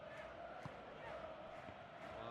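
A stadium crowd in PES 2017, in a Dortmund versus Juventus match, sends up a steady roar of murmuring and cheering throughout.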